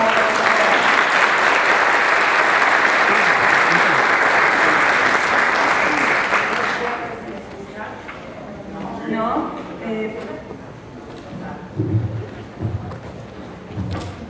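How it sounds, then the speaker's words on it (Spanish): Large indoor audience applauding a speaker at a talk on bullying, dense sustained clapping for about seven seconds, then fading out into quieter room murmur and shuffling. "Pido a ustedes un fuerte aplauso"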